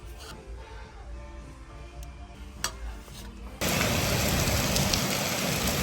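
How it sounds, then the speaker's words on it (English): Rain begins to fall outdoors near a thrift store, shifting partway through from a low steady background to a loud, dense broadband hiss of rainfall that continues to the end. "It started raining."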